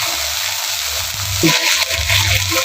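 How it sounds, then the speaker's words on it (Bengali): Ginger, garlic and onion paste sautéing in oil with cumin seeds in a pan, giving a steady close sizzle with a brighter surge of frying partway through and a low hum beneath. "আদা বাটা, রসুন বাটা আর পেঁয়াজ বাটা। একটু হালকা করে কষিয়ে নিই।"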